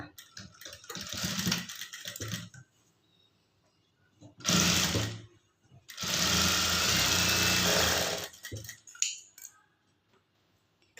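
A sewing machine runs a straight seam along folded cloth on a high-neck blouse, in two loud close bursts of whirring separated by quiet pauses.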